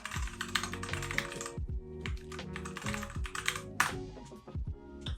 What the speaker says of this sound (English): If I type the right password first go around, I did not.